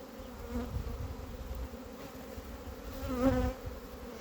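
Steady buzzing of many honeybees around hives, a continuous drone with one bee passing louder and closer near the end.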